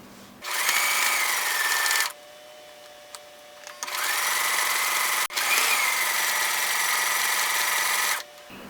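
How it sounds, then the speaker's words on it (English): Sewing machine stitching through fabric to make a pinned envelope pocket, running in two steady whirring bursts of about two and five seconds with a quiet pause between, loud and close with no talking. "I'm going to sew where I put my pins."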